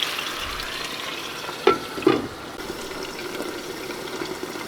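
Chicken breast sautéing in hot oil in a pan, a constant close sizzle with two sharp louder spits or crackles partway through, then settling back to an even hiss, no voices.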